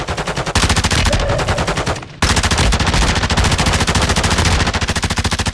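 Loud, relentless automatic weapon fire from an online shooter game, fast evenly spaced shots in long bursts with a short gap partway through, close and dominant.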